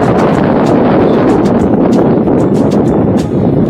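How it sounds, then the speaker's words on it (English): Strong wind buffets an outdoor microphone with steady, loud rumbling roar and gusty rustle throughout, no talk. "wind is strong"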